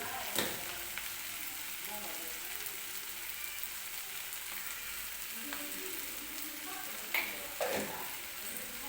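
Capsicum sabzi cooks quietly in a pan with a soft, steady sizzle and a few faint clicks and scrapes as it is stirred and mixed.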